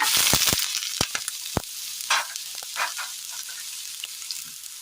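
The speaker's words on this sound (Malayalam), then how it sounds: "ചൂടായി വരുമ്പോൾ എണ്ണ ഒഴിച്ചു കൊടുക്കാം ഇതിലേക്ക് സബോള അരിഞ്ഞത് ഇട്ട് കൊടുക്കാം" Chopped onions dropping into hot oil in a pan, a few sharp clattering hits followed by a steady bright sizzle that rises in short bursts, close and fairly loud with no talk.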